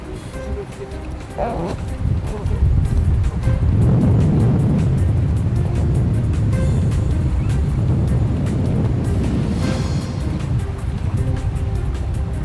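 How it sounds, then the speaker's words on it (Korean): Heavy ocean swell churns and rushes around a small rubber boat at sea during undersea cable work, a loud continuous wash of water with engine rumble beneath, and voices speaking over it. "높게 있는 너울"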